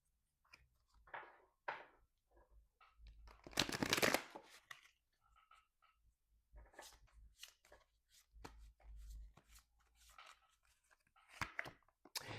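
Tarot cards are shuffled close up in a quiet room, giving soft papery riffles and slaps in irregular bursts, with one louder flurry in the middle.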